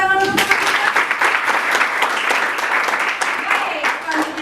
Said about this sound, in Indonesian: Dan tepuk tangan untuk